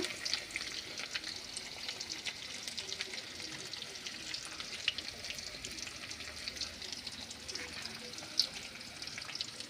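Onion added to hot oil with garlic and curry leaves fries with a faint, steady crackling sizzle and occasional stirring clicks, quiet and close throughout.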